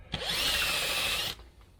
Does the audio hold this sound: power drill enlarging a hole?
yes